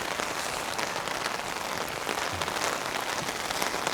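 Rain pours steadily onto an umbrella, a dense, even patter of drops that holds close and constant throughout.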